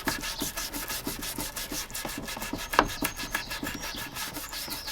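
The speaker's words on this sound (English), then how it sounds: "I'm actually going to dip it in the white spirits and then rub it in there." Wire brush dipped in white spirit scrubbed across soft pine bedside cabinet furniture, a rhythmic rasping back-and-forth rub repeated several times a second, close and steady, with no talking.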